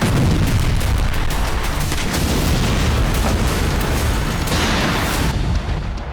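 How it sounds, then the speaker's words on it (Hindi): FAB-1500 bombs explode in Ukraine, a loud continuous rumble of blasts and booming debris filling the whole stretch before fading slightly at the end, with no talk. "यूक्रेन में ज्यादा से ज्यादा तबाही के लिए रूस अब फैब 1500 बम का इस्तेमाल कर रहा है।"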